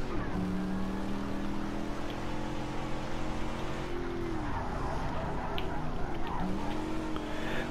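Race car engine in the video game Project Cars 3, a loud continuous revving whine with pitch rising and dropping through gear changes, tire noise mixed in.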